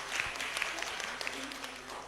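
A short round of crowd applause at a university briefing session, steady dense clapping filling the room with some voices underneath.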